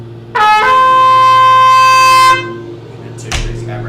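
A trumpet holds a single sustained high D, fingered with the first valve, bright and steady for about two seconds before cutting off, with a low hum underneath and brief noise afterward.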